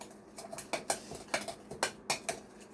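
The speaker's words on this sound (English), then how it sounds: "Now we're gonna stir it up." Utensil scraping and clinking against a bowl while stirring taco seasoning spices together, a run of short, close, irregular taps and scrapes with no talking.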